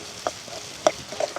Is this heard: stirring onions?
yes